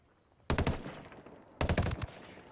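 Two bursts of rapid gunfire from a firefight in Ghost Recon Wildlands, each lasting about half a second, fairly loud and close against a low ambient background.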